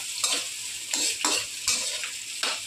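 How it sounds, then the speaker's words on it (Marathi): Chopped onion frying in a pan and cooked until reddish-brown, with repeated scraping stirs cutting through a constant bright sizzle. "कांदा भाजून घेतल्यानंतर मग एकदम लालसर होईपर्यंत कांदा चांगला भाजून घ्यायचा"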